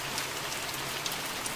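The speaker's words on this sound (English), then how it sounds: "The sound of rain." Steady rain hisses across the soundscape of the horror game The Mortuary Assistant, an even, continuous patter with scattered brighter drops, with no voices over it.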